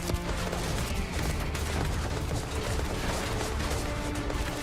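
Gunfire in the Starfield video game, a dense continuous barrage of rapid shots with mechanical clatter, loud and sustained throughout, no talk over it.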